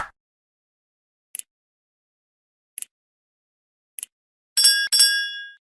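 Notification bell sound effect: three short bright bell pings spaced evenly apart, followed by two louder ringing chimes with a longer shimmering tail, crisp and isolated against silence.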